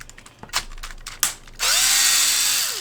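A small power drill whirs to remove screws from an RC drift car chassis, a short spin-up and wind-down after a few clicks and taps of handling parts.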